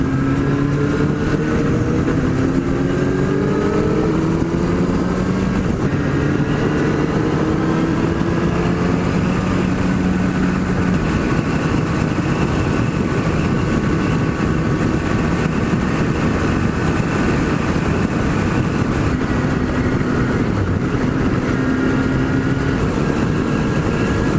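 A Kawasaki ZX-10R motorcycle engine drones loud and close while riding on back roads, with wind roar throughout and rising, shifting engine tones as the bike changes speed.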